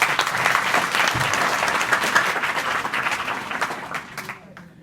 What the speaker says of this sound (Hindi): तो ताली तो बजा दो